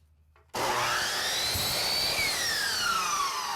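A saw cuts through a length of uDecor chair rail molding, trimming a sliver from the end; after a brief quiet lead-in, a loud sustained whining cut with a rising and falling tone runs for about three seconds.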